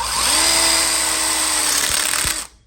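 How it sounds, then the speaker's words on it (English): A power drill fitted with an angle screwdriver attachment drives screws into an outdoor kitchen corner module, a loud steady whirring motor holding for about two seconds before winding down and stopping. "There's a very nice angle iron screwdriver that you can attach to your drill"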